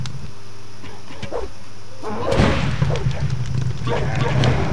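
A creature barks in the game Gothic 2, a few sharp, loud barks over game background noise and music, with someone speaking briefly.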